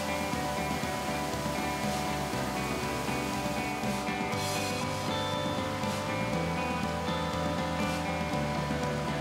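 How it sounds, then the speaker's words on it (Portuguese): A waterfall on the Ouro Grosso river in PETAR park, Brazil, rushing in a steady, dense roar like heavy rain, constant and close, with no voices. "Olha só a cachoeira, rapaz!"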